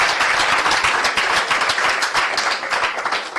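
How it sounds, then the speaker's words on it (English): An audience gives a standing ovation for an ambassador at an official launch event, producing dense, steady, loud clapping that continues throughout without any voices. "Let's stand and have a standing ovation for the ambassador as we clap for him"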